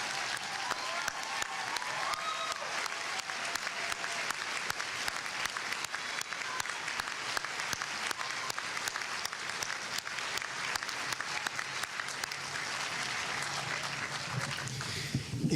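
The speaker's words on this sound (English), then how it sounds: "How about one more round of applause for these graduates?" An audience at a university commencement ceremony gives graduates a round of applause: sustained, dense clapping from a large crowd, steady and moderately distant throughout, with no speech over it.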